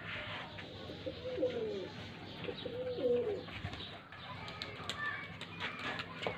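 Pigeons are released to fly and give soft, low cooing calls, with a few faint chirps and some wing flutter over outdoor background noise.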